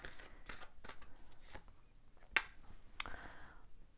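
Tarot cards being drawn and shuffled close up, a quiet series of soft papery swishes and flicks at irregular intervals, with one sharper snap partway through.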